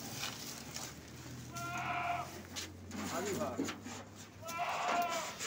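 Goat bleating at a busy livestock market in Mandi Bahauddin, two or three short nasal calls close by, with people talking in the background.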